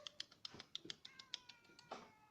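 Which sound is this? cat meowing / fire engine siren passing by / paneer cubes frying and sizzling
cat meowing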